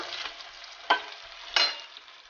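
Soaked rice mixture tossed into browned ingredients in a pot for Basanti pulao, giving a steady low sizzle with two sharp stirring scrapes, close and without voices.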